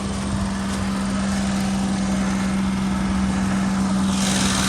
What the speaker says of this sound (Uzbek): Mashina hozirda yurib turibdi.